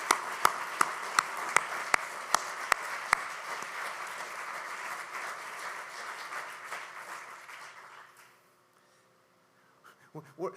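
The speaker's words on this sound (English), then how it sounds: "Can we get another round of applause for all of our presenters" Audience applause for symposium presenters: a crowd claps steadily and fairly loudly at first, with a few sharp individual claps standing out, then fades out to near silence, followed by a brief rustle at the end.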